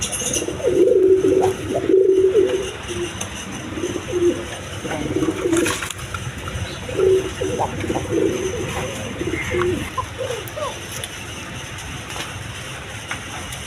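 A pair of pigeons at a pigeon market cooing in soft, repeated low calls, fairly close, with background chatter and ambient noise throughout.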